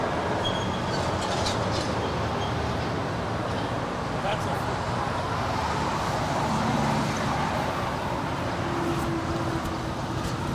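A United Airlines Boeing 787-9 Dreamliner departs Los Angeles International Airport, giving a steady, broad engine roar heard from a distance that holds evenly throughout with no clear rise or fall.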